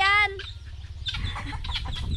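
A hen clucks and squawks nearby in short bursts, opening with a sharp cackle, with other farmyard sounds around it.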